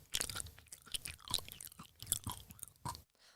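Crunchy Plantitude vegan cookies are being bitten and chewed up close, with a string of crisp crunches and wet mastication noises that go on for about three seconds before stopping.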